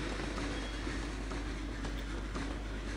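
Steady rail rumble of a train running in the video game Sid Meier's Railroads, a continuous rolling drone with faint clickety-clack, moderately loud and even throughout, with no voices.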